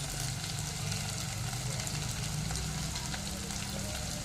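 Ginger garlic paste frying in a hot pan, a continuous dense sizzle and crackle held steady throughout, close and moderately loud with no talking.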